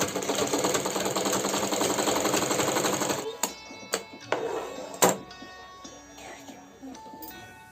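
A sewing machine runs steadily while stitching the hem of a ready-made nightie, a dense fast mechanical whir for about three seconds, then stops, leaving only scattered clicks and light handling noises.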